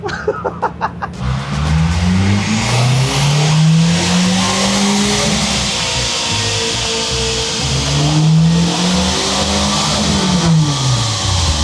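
Turbocharged car engine revving hard under boost on a dyno, a loud sustained roar that climbs, dips and climbs again with a droning exhaust note, preceded by a few sharp pops and no talking.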